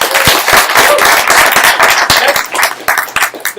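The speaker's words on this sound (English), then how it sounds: "That's more of a clap for you guys than anything" A crowd at an Orlando developers meetup claps loudly and steadily, many hands producing a dense, sharp patter that stays full for the whole stretch before loosening slightly at the end.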